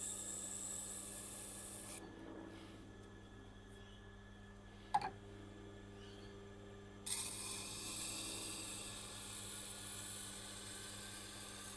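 Japanese knife being sharpened on a Tormek sharpening machine, a steady soft rasping grind over a low mains hum, dropping quieter in the middle with a single sharp click before the louder grinding returns.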